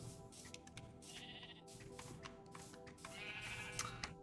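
Sheep bleating in a farm game setting, several quavering cries rising and falling over a busy ambient music bed, a few short bleats overlapping near the end, fairly faint and with no talk.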